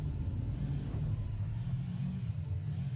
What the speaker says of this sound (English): Oh, I like how the boost sounds.